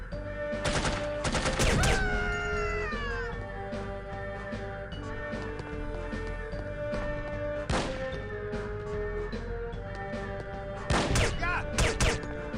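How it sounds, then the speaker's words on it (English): Gunfire in the video game No One Lives Forever, sharp bursts of shots in clusters with a ringing tail, loud and close, separated by quieter stretches of game ambience. "Oh, that's firing my gun off again."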